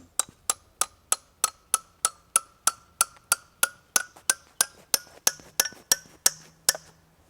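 A steel climbing piton is hammered into a rock crack that is bottoming out, about twenty sharp, evenly spaced metallic strikes with a ringing tone that rises as the pin seats, close and loud with no talking.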